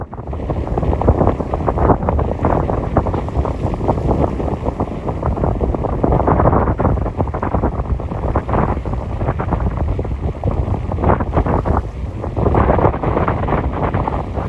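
Strong wind roars steadily into the microphone at sea in the Red Sea, gusting and buffeting throughout with a constant low rumble.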